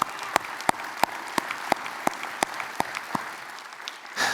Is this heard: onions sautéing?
no